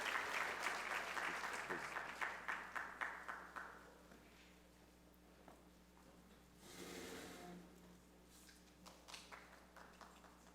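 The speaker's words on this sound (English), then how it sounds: "let's give them a round of applause as we bring them to the stage" An audience at a conference main stage applauds as guests are brought up. The clapping fades over the first few seconds, then a brief murmur and scattered claps follow in a quiet room.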